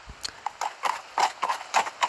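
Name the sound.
horse hooves scuffling against a dry plain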